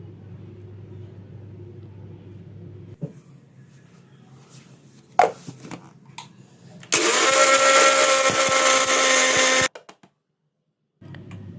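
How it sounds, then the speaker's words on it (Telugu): A mixer grinder grinds roasted spices with salt. After quieter handling noises and a low hum, a loud, harsh, high-pitched whirring blast runs for about three seconds, then stops. A faint rumble returns afterward. "మిక్సీ వేసుకుందాం"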